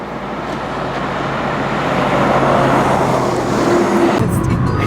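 Interior of a car giving a hitchhiker a ride into Quincy, a loud steady engine and road rumble that shifts and drops off near the end.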